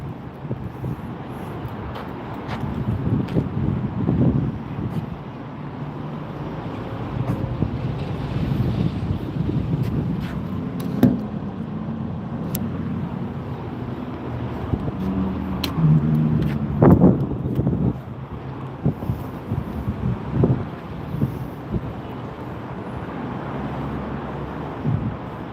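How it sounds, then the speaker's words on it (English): Strong outdoor wind buffets the microphone in continuous low roaring gusts for the whole stretch, with occasional louder bursts and faint street noise behind it; no one speaks. "It's hella windy."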